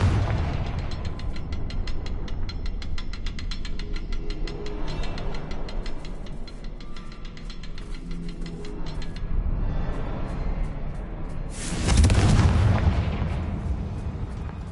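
A Confringo explosive spell goes off in a wizard video game, one loud broadband blast around the twelve-second mark rising above a steady busy game soundscape.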